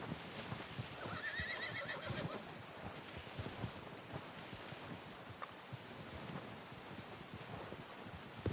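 A horse whinnies with a rising, shaky neigh near the start, followed by soft hoof clops and rustling against steady outdoor wind noise.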